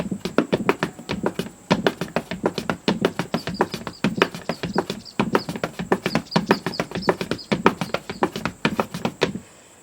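Tap dancer performing a walking step with the heel put down on the other side, a steady run of crisp, close taps and heel strikes in quick repeating rhythm, alone without talk.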